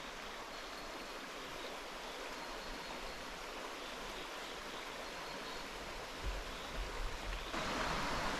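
The Divoká Orlice river flows through forest with a constant broadband rush of running water, steady and fairly soft. A brief louder disturbance comes near the end.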